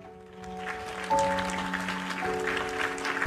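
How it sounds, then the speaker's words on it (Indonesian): An audience breaks into applause in a talk setting, a building patter of many hands that stays fairly steady while a sustained electronic hum and tones run underneath. "Wah, tepuk tangan dulu kalau gitu"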